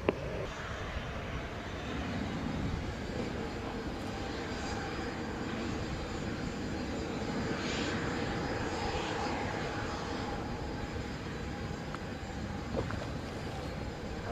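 An airplane at Montego Bay airport in Jamaica roars steadily for a long stretch, a broad, loud engine wash heard outdoors with no talk over it.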